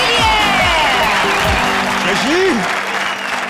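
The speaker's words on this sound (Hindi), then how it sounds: "तालियां कृष्णा और सुदेश के लिए" Audience applause for a comedy duo on a TV comedy show stage, a loud burst of clapping with some music underneath, fading slightly at the end.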